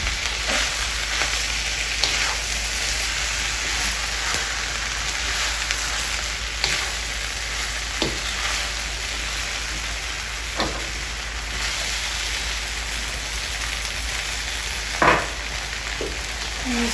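Vegetable stir fry sizzles steadily in a hot pan while being stirred, with a constant loud frying hiss broken by occasional scrapes and clinks of the utensil against the pan, and no voices.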